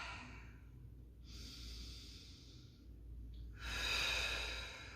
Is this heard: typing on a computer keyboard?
no